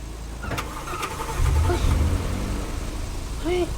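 Engine of a car in a Roblox game cranking and catching, then a steady mid-pitched running rumble, loud and close, with no talk over it.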